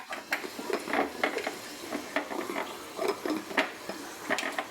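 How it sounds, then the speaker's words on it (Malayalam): Fenugreek seeds splutter in hot oil, close and fairly faint, an irregular series of quick pops and crackles over a soft frying hiss without any talking. "എണ്ണ ചൂടായിരിക്കുവാണ് ഞാൻ അതിനകത്തിലേക്ക് കുറച്ച് പിന്നെ നമ്മുടെ ഉലുവ ഇടുകയാണേ ഉലുവയൊന്ന് പൊട്ടിക്കോട്ടെ"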